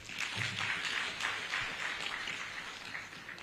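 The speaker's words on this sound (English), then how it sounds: "Can we clap for the government?" Clapping from an audience at a national cooperative meeting in Uganda, a faint, scattered patter of hands that continues steadily throughout at a distance.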